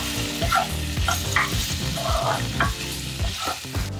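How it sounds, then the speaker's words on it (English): Kimchi fried rice with Spam sizzles and crackles loudly in a hot pan, with repeated scraping and stirring strokes of a utensil through the rice, close up and continuous. "So we're gonna dump this entire thing in and also stir fry our kimchi."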